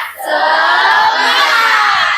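A school class shouts a tepuk semangat clap chant together, a loud, continuous burst of children's voices filling the room for about two seconds with little pause.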